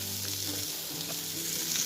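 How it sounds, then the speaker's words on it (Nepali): Potatoes fry in a pan with coriander leaves and a ground spice paste for Nepali piro aloo, giving a steady, close sizzle with soft stirring scrapes throughout and no voices. "यसलाई मजाले भुट्दै जाने हो।"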